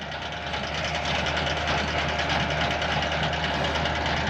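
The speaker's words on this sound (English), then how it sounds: "You've got to keep the baler fed." A hay baler runs on a farm during a poor hay crop, a steady loud mechanical drone with a rapid, rattling, knocking rhythm and constant vibration throughout.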